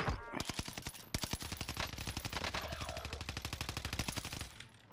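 Rapid automatic gunfire in a Call of Duty match, sharp bursts rattling off in fast regular rhythm, close and loud with a brief pause before firing resumes.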